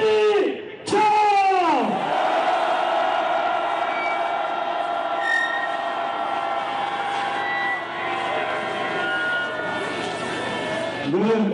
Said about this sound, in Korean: 트럼프에 반대하는 우리 노동자들의 힘찬 함성과 함께 프랜카드를 찢도록 하겠습니다